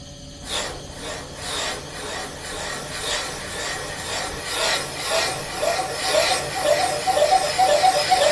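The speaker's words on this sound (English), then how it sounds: "So I'll turn my spindle on." A Rottler SG9MTS spindle runs while machining an engine valve seat, giving a steady broadband rasping cut with faint rhythmic scraping that grows slightly louder and more regular toward the end, with no talking.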